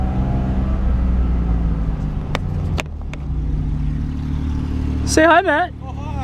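A loud BMW F82 M4 with a burble tune and open exhaust rumbles steadily nearby, with a few sharp pops, while people exchange brief greetings over it.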